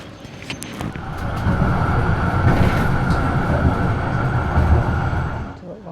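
A Melbourne tram rumbles past at close range along a street, a steady low roar building and holding before easing off, with faint squeals on top.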